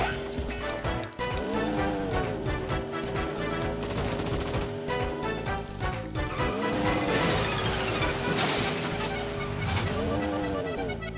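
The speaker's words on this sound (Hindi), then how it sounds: "कार रेस में सबसे आगे दौड़ रही है।" Racing cars roar through a 3D animated cartoon race, with revving engine whines that rise and fall as they speed past, layered over busy, dense sound effects and a steady clatter throughout.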